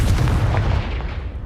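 The Confringo fire spell in Hogwarts Legacy sets off a heavy, booming explosion right at the start, which then rolls and fades out over a second and a half.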